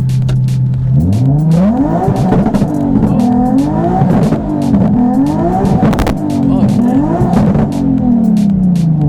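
Tuned Nissan 370Z revving hard on a two-step launch limiter, the engine note climbing and falling in repeated surges with sharp crackling pops, loud and close, with a brief exclaimed voice.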